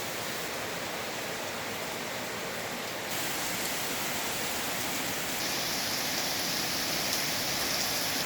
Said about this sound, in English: And it is just pouring down rain.